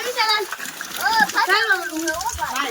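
A child splashes into the water of a homemade swimming pool, with brief sloshing splashes under excited children's voices talking and calling out throughout.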